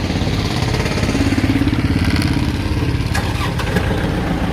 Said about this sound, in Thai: เดี๋ยวเราลองมาสตาร์ทเครื่องยนต์กันดูนะครับ